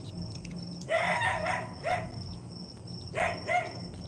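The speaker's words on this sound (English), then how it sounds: "Dogs out there." Several dogs bark outdoors at night in a few short bursts, moderately distant, over a steady background of insects or crickets chirping.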